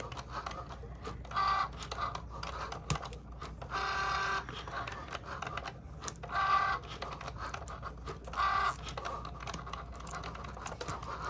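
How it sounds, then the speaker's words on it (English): Short bursts of scissors snipping through transfer tape, four brief cuts spaced a couple of seconds apart, close and fairly quiet over a soft background. "let's just take some scissors here. Just kind of go through here and cut that piece of tape"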